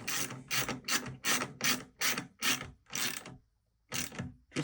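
Close ratcheting as bolts on a Fogstar 12V DIY battery kit are tightened down, with about nine rhythmic rasping bursts in quick succession, a brief pause, then two more.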